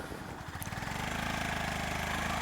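A 2025 Honda CB350 motorcycle engine cranks and fires, then settles into a steady, rhythmic thumping idle that stays loud and close for the rest of the moment, with no talk over it.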